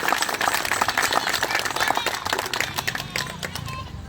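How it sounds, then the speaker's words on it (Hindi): Audience at a stage event honouring Guru Ghasidas in Chhattisgarh breaks into loud, dense clapping, a continuous wash of many hands that fades slightly toward the end, with voices mixed in. "जोरदार ताली से स्वागत करो"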